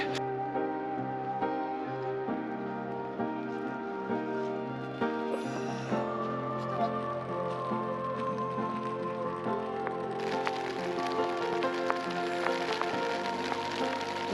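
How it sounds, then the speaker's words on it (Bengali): Soft, steady patter of light drizzle falling throughout under heavy cloud at Hemkund Sahib in the Uttarakhand Himalayas, with sustained musical tones running beneath it. "চারিদিকে প্রচুর মেঘ হয়ে গেছে, ঝিরিঝিরি বৃষ্টি পড়ছে"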